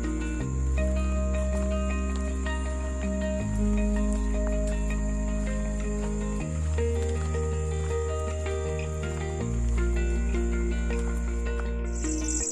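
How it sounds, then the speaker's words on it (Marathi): Crickets trill at night in a Konkan village in Dapoli after rain, a steady high continuous chirring running beneath louder sustained music throughout. "रातकिड्यांची किरकिर सुद्धा तुम्ही अगदी स्पष्टपणे ऐकू शकता"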